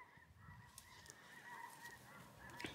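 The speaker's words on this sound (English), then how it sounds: "I hear more geese." Canada geese honking as they fly north overhead on a homestead, a string of faint distant honks repeating irregularly against quiet outdoor background.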